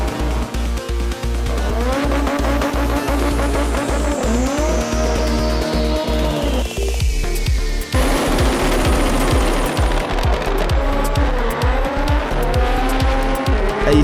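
Front-wheel-drive clutch drag cars run down a drag strip at a competition event: a loud, continuous engine roar with rapid rev changes, gear shifts and tire chirps, several cars overlapping in succession.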